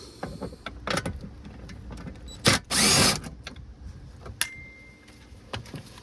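A power tool spins out kick panel bolts on a third-generation Toyota 4Runner, with ratcheting bursts and one loud sustained whir among scattered clicks and handling noises, close by and without speech.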